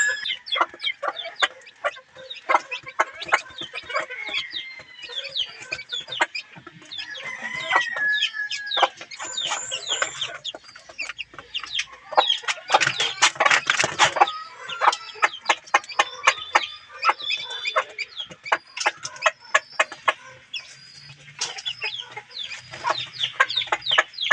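A brooding hen sitting on four eggs clucks and murmurs continuously at close range, with other chickens and a crowing rooster mixed in around a farmyard, and no voices over the sounds.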